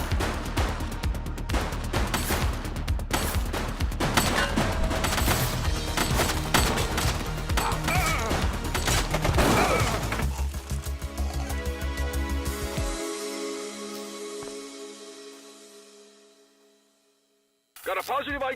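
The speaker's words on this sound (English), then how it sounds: "He's shooting!" Gunfire in the video game The Precinct, with dense rapid shots and impacts for about ten seconds, mixed with shouting voices, before fading toward silence.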